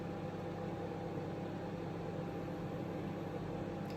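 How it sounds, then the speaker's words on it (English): Steady hum of a microwave oven running while melting fudge ingredients, a constant low drone with a light hiss and no talk. "I've put that in the microwave again for a minute"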